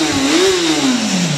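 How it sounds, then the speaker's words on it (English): A motorcycle engine with a standard exhaust can revs up and down to about 12,500 rpm, its pitch rising then falling in a steady, close-up whine with no talking. "Let's have a listen to the engine though."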